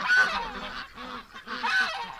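Ducks gather at a door and call continuously with honking quacks that overlap each other. The calls are moderately loud, with no talking.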